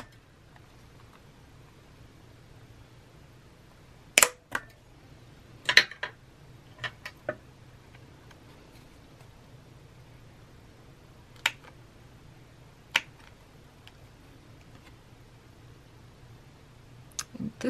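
A paper punch and cutter work through card stock for a homemade Memorydex card, giving a handful of sharp, isolated clicks and snaps over a quiet room hush, some single and some in quick pairs.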